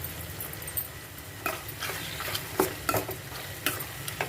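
Cumin seeds frying in a hot pan for a simple tomato chutney: a steady close sizzle broken by scraping stirs and small clinks, louder bursts as the spoon moves, with no talking.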